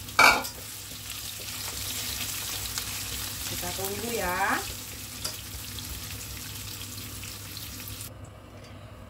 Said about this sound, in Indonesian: Masukkan ini terong yang sudah kita lumuri dengan tepung maizena. Nah, seperti ini kita goreng hingga berwarna kecoklat-coklatan